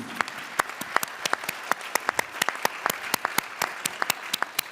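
Sparse clapping at an awards ceremony, a handful of distinct, sharp hand claps in an uneven rhythm, close and fairly loud against a quiet room.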